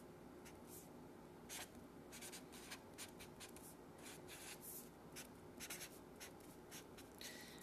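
Pen scratching on paper while information is jotted down by hand, steady irregular strokes close to the microphone over a faint background hiss.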